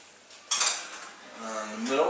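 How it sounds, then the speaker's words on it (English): A metal muffin pan clatters onto an oven rack, one sharp clank followed by a fainter rattle and a scraping slide as it settles, close by and with no talk. "grab this pan, set it in there"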